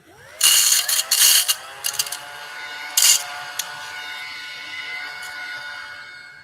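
A small handheld mushroom-shaped vacuum sucks up spilled metal drill bits, giving several sharp bursts of clattering and rattling as bits are pulled in, followed by a fading motor whine.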